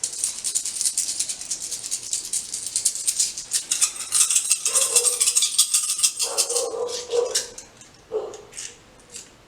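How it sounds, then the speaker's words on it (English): A handful of metal coins jingles and rattles continuously in a hand, bright and close, then a few clinks sound as some are picked out, ending in sparse taps. "I'm just gonna take a couple of coins out of here"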